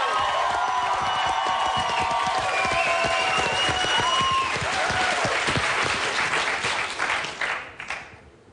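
Studio audience on a Bulgarian TV talent show results night applauding and cheering, dense sustained clapping with whoops, loud and continuous, then fading out near the end.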